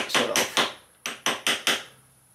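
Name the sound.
hammering sprocket nut edge on Tenere 700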